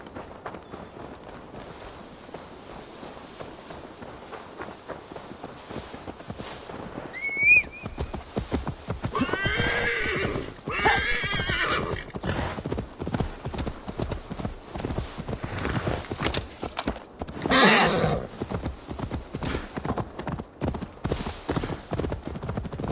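A horse in the video game Assassin's Creed Valhalla, its hooves clip-clopping in a steady rhythm throughout, with a few louder passages, a short whinny, and game music and ambience underneath.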